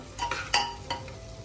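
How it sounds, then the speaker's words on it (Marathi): Rice being roasted in a pan until brownish, a faint hiss under a few quick spatula scrapes in short succession, close and alone. "मग ते तांदूळ सुद्धा छानपैकी असे ब्राउनिश होईपर्यंत थोडेसे भाजून घ्यायचे याच्यामध्ये"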